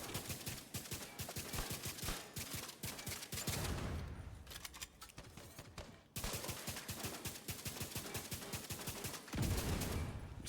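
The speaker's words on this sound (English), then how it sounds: "See, we got 2 explosions." Rapid automatic gunfire and blasts from The Division 2 shooter game, dense repeated bursts with a brief lull in the middle, loud and continuous throughout.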